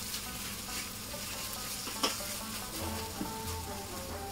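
A spoon stirs a thick tomato-based Mr Naga masala in a hot pan, the sauce sizzling and frying steadily, with a couple of faint scraping clinks against the pan.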